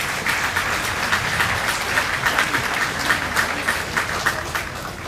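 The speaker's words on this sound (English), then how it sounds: "Let's give her a round of applause." A large crowd applauds steadily at an FFA awards show at the Minnesota State Fair, honoring a champion breeding gilt. The dense clapping stays at an even level throughout, with no voices over it.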